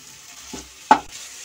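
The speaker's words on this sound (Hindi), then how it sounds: "मैं इसमें एक छोटा चम्मच अमचूर पाउडर डाल रही हूँ और इसे मिक्स करूंगी" A spoon stirs amchur powder into a potato and fenugreek curry in a pan, giving two short soft scraping strokes with a faint sizzle underneath, close and quiet.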